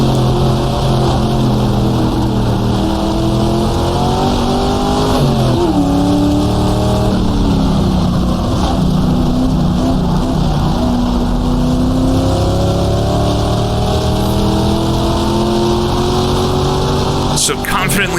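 A 1960s sports racing car at Monza in the video game GTR2, its engine loud and close as it downshifts toward first gear with falling and rising pitch sweeps, while a voice talks over it.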